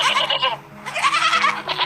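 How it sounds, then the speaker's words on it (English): A goat bleats twice in quick succession, loud and close, each a wavering nasal cry with a short pause between. "Goat."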